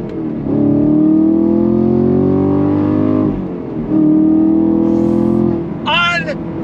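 A 2023 Chevrolet Camaro SS convertible's V8 revs hard under throttle in two long, loud, rising pulls separated by a brief lift, with a short higher-pitched whine near the end.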